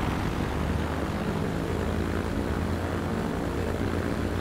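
A brand-new propeller airplane in Transport Fever, a 1928-era transport game, throttles up on the runway before takeoff: a loud, steady engine drone with a low propeller hum that holds constant throughout.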